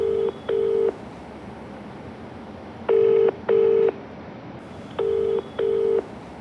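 A telephone number is keyed in for a call to a woman, three pairs of clear DTMF keypad tones sounding in rhythmic bursts over quiet background hiss.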